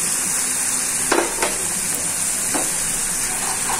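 Ginger paste and ground spices frying in a pan, a loud close hissing sizzle with a few sharp stirring scrapes and taps scattered through.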